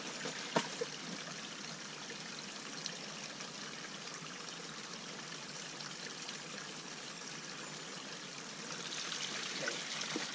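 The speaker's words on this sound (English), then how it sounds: "So I'm going to fill up a bucket and time it with a stopwatch." Water pours steadily into a bucket during a flow measurement for a micro hydro setup, a constant rushing trickle with no talking.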